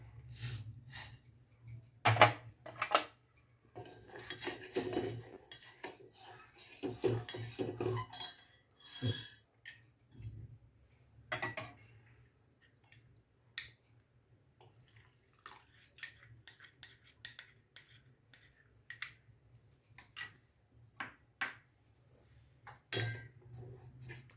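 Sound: stirring milk and sugar for no-bake Mexican pudding

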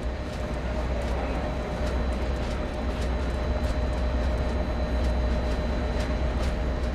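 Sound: train starting to move in video game Train Sim World 2

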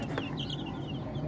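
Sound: Hubbard Sasso chickens clucking

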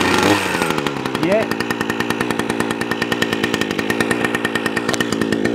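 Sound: Ruris RR360 brush cutter petrol engine running at raised revs

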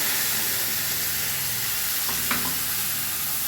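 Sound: frying ground spice paste for rohu fish kalia

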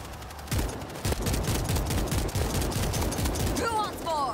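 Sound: gunfire in World War Z video game

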